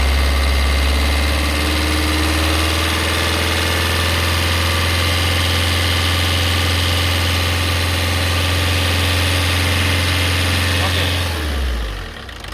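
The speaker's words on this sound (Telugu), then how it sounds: "ఒకసారి ఎక్సిలేటర్ ఇచ్చి చూపిస్తాను ఒకసారి చూడండి" A Maruti Suzuki Baleno diesel engine runs loud and close with a deep steady rumble as the accelerator is pressed, then winds down and stops near the end.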